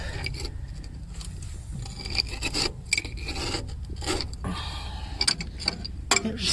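A 1960s International Scout engine is slowly turned over by hand, giving faint, close rasping and scraping mechanical sounds in uneven strokes.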